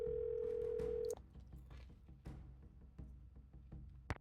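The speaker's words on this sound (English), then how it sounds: "let's make a phone call before we take this off and see what we can" A telephone in the Nancy Drew game The Secret of Shadow Ranch gives a steady dial tone for about a second, then a sparse series of faint clicks and taps follows, ending with a sharp click.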